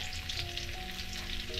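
Prawns frying in butter in a pan, a continuous even sizzle and crackle with faint tonal hum beneath, steady throughout with no voices.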